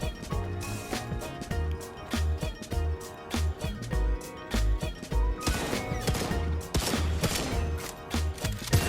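Rapid shotgun blasts boom in a VR shooter on Meta Quest 3 during a final wave against bugs, dense repeated sharp shots with music-like thumping underneath, close and loud throughout.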